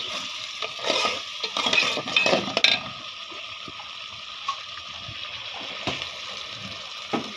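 Cardamom and spices are stirred in a pot for Dhaka-style chicken biryani, giving a frying hiss with scraping and clinking strokes, busiest early and then settling into a steady sizzle with occasional taps.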